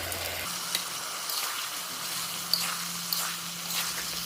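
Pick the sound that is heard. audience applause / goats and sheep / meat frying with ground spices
meat frying with ground spices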